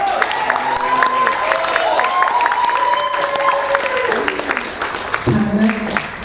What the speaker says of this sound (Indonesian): tepuk tangan dulu dong Pak Hekel